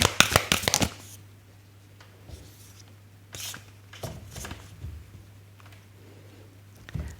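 Tarot cards being shuffled by hand, a quick burst of riffling flutters at the start followed by softer intermittent shuffles and slides over a steady low hum, close and fairly quiet.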